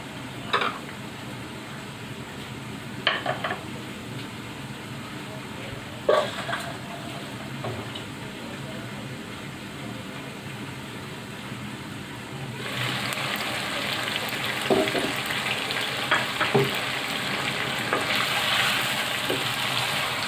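Chicken frying in a pot on a home stove during biryani preparation; a soft, steady sizzle with occasional pops and stirring clinks, growing noticeably louder and hissier in the second half.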